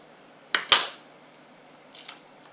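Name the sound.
knife cutting ends off garlic cloves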